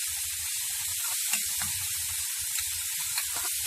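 Tomato and onion cook in a pan, a continuous bright sizzle with a low bubbling rumble underneath and a few faint clicks, moderately loud and close with no voices.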